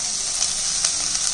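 Chopped onion, garlic and green chili sizzle loudly in oil in a frying pan, a dense, even hiss with faint stirring ticks, close up and without speech.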